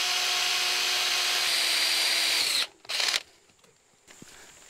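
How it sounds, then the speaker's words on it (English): A power drill bores a hole into a new painted steel T-post being set up as a ground for an electric fence, running at a loud steady whine for about two and a half seconds, then stopping, with a brief second burst. "I'm just gonna drill a hole in a T-post, and I'm gonna use that as a ground."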